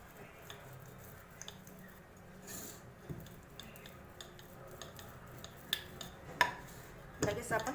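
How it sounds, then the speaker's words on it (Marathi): A spatula spreads a thick sesame and jaggery chikki mixture across a plate, giving soft intermittent scrapes and light clinks that sharpen into a cluster of louder taps at the end. "जिकडे जाड वाटलं तिकडे पसरून घ्यायचं"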